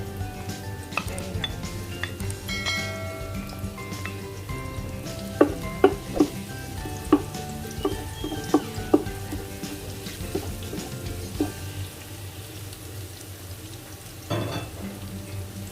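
Garlic frying in a pan for lumpia, a continuous sizzle with scattered sharp clicks and scrapes of a utensil against the pan, no voices.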